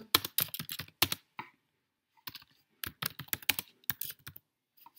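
Keys clack on a computer keyboard in quick bursts of typing separated by short pauses, close and clear with no other sound.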